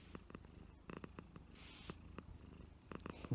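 House cat purring close up in a steady, rhythmic low rumble with regular pulses, soft and continuous with no talk over it.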